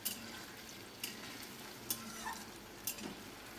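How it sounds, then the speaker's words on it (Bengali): Paneer cubes fry in a pan with a soft, steady sizzle, broken by four or five brief sharp scrapes of stirring, with no voices. "দেখুন পনিরগুলো বেশ ভালো মতো ভাজা হয়ে গেছে।"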